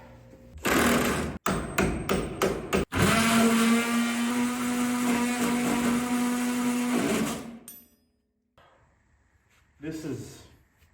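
A Milwaukee Extreme Metal blade in a power saw grinds through rusted bolts on a 1964 Datsun 320 truck left outside for 40 years, a loud, sustained whining cut with a steady tone, broken by short stops, then brief faint cutting near the end.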